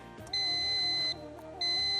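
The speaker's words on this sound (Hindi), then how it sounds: "जी आपने बजर दबाया।" A quiz show contestant's buzzer sounds on a Ramadan television quiz competition, two sustained electronic tones that each hold steady for about a second over low studio background noise.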